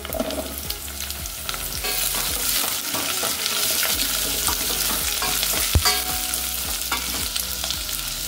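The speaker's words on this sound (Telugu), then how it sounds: "ఉల్లిగడ్డ కొద్దిగా వేగిన తర్వాత ఒక కప్పు ముల్లంగి ముక్కలు" Onion and radish pieces fry in a pan with a dense, loud, continuous sizzle and crackle, while a utensil stirs and scrapes now and then, heard up close with no speech.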